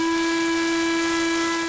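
Steam whistle of Western Maryland Scenic Railroad steam locomotive 1309, one long steady loud blast held near the listener for the whole stretch, with a harmonic tone and a breathy steam hiss around it.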